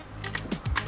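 Keys clack on an Arealer Roarer 104 RGB mechanical keyboard, about five or six crisp close presses in under a second, alone with no talk.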